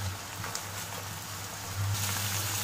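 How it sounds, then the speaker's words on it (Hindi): Chicken frying in a pan for an omurice dish, a steady close sizzle and crackle running throughout with a slight swell near the end, no voices. "बस चिकन को हम 4-5 मिनट फ्राई कर लेंगे।"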